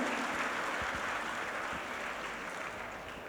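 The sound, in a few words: audience applause for sponsors and media partners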